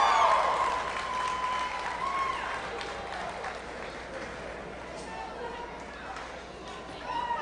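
An audience at a youth fair livestock show claps in a steady round of applause, moderately loud and diffuse, with crowd chatter and voices mixed in throughout.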